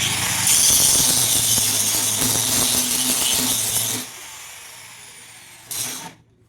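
A grinding machine runs under load with a steady, loud, dense whine and low hum for about four seconds, then drops to a quieter idle before a brief final surge and cutoff.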